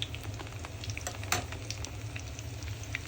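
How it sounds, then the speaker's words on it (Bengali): Fish kofta balls fry in hot oil over a low flame, a steady close crackling sizzle with small pops and faint stirring, no voices. "এখন আমি জালটাকে একদম কমিয়ে এটাকে ভেজে নিব।"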